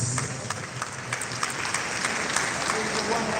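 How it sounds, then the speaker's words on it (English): Applause from a seated audience after a professional development lecture rolls on as a continuous patter of many hands, with faint voices mixed underneath. "Please, one round of applause for him, please."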